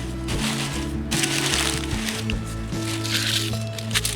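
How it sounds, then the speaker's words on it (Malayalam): A soil and manure mix is dumped and packed into a grow bag in a home garden, making close, continuous gritty rustling and squishing sounds along with a low background hum. "കുറച്ച് മുന്നേ മിക്സ് ചെയ്ത മണ്ണും വളവും മിക്സ് ചെയ്ത് വെച്ചത് നമ്മളിതിലേക്ക് ഇടുകയാണ്"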